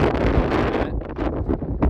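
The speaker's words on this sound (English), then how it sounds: "it is really windy" Strong wind buffets the microphone on an exposed 12,335-foot Colorado mountain summit, a loud continuous roar with gusty surges and no talking.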